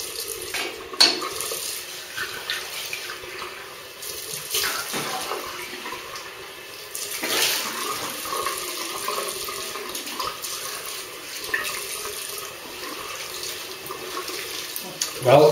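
A tap runs into a sink while someone rinses off after shaving, a steady close rush of water with splashes, brief clinks and handling noises throughout.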